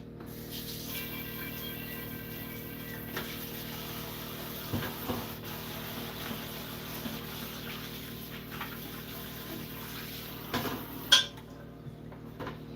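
Water splashing and swirling in a cooking pan being rinsed clean after cooking, with soft trickles, light metallic knocks of the pan and a sharper clank near the end, all close by with no talk.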